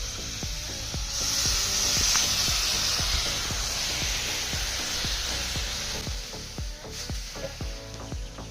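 Raw fish coated in spice paste hits a hot wok and sizzles steadily, a bright continuous frying hiss with a louder burst of spitting early on and scattered clicks and taps of stirring underneath.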